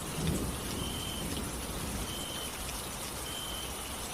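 Steady rain pours down in a dense, constant hiss during a windy night thunderstorm, with a faint low rumble near the start; no voices are heard.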